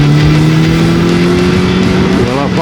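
A car's engine accelerates hard on an open road while overtaking, a loud sustained rising drone that holds steady throughout with no talking.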